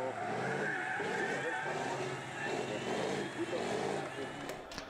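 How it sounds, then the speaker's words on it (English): Racing trucks spin donuts on the Jarama circuit after an FIA European Truck Racing Championship round, giving a continuous roar of engines and squealing tyres, loud and close, with a commentator talking over the top. "the trucks perform donuts after the race"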